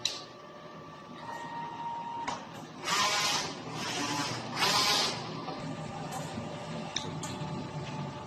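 A DTF printer in fair condition runs a nozzle test, giving a steady mechanical whir with bursts of broadband printhead and carriage noise and a few clicks, moderately loud and close, with no talk.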